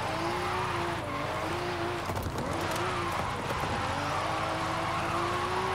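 A Toyota Soarer drifting in Forza Horizon 5, a steady whining engine note held in third gear with wavering pitch and a brief rough scrabble of tyres midway, continuous and fairly quiet.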